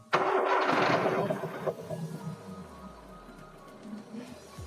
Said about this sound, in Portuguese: Marcelinho, fala no gato aí, filho, liga o carro